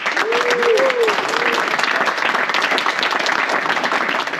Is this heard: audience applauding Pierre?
yes